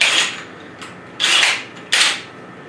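A metal chuck on a DeWalt cordless drill is tightened around a 1/2-inch bit, giving three short ratcheting, rasping bursts close by, the last two longer and louder, with no talking.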